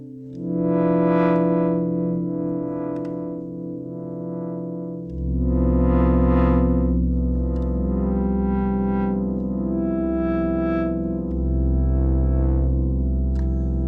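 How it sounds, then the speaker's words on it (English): Sustained Vongon Replay synthesizer chords ring out with a spacious stereo echo from a Polyphrase effect, repeating tones trailing behind each change in a steady, loud wash. "let's add some echo and let's listen. Polyphrase is making it stereo, opening up the field."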